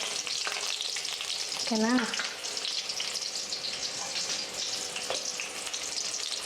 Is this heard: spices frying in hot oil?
yes